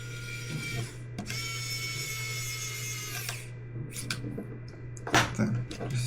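A screwdriver tightens a screw inside a Cozmo robot, giving a soft, close mechanical whir and a few small clicks and scrapes against a steady low hum.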